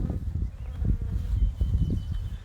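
Honeybees buzz busily around an opened hive on a prairie, a close, continuous droning hum with individual bees swelling in and out.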